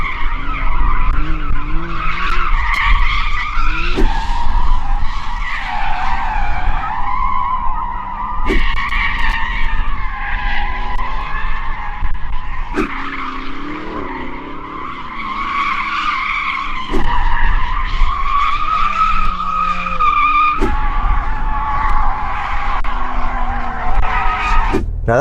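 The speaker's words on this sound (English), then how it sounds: "There's one more thing we need to do before we race actually." Several Porsche cars spin their tyres to warm them before a drag race, producing loud, continuous squealing screeches with revving engines that rise and fall in overlapping waves throughout.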